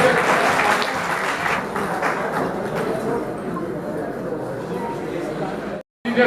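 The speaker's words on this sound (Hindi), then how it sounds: "जोरदार तालियां" Steady applause from a crowd at an Engineers Day celebration, a dense patter of many hands clapping that fades slightly before cutting off, with faint voices mixed in.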